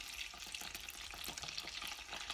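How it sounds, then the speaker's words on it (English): Food refried for a short second round in hot oil in a pot, a dense, steady crackling sizzle with fine popping bubbles throughout and no talking. "we're gonna return the ones we cooked first back into the oil for about 30 more seconds"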